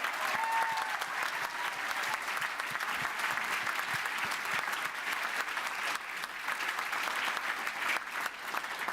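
Sustained audience applause at a university graduation ceremony, a full, even wash of clapping from a large crowd in a hall, steady throughout with no talking.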